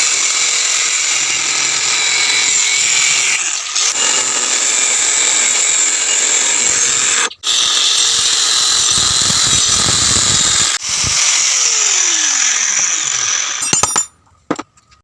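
Blacksmith cutting a steel piece for a knife with a power tool, a loud continuous high grinding whine held for most of the time, broken by two short pauses, then clinks as it stops.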